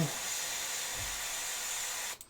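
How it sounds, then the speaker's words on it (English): Steady close hiss of an airbrush spraying acrylic paint onto a miniature tank, constant and even for about two seconds before cutting off with a brief clatter. "Now I can just come in here and spray."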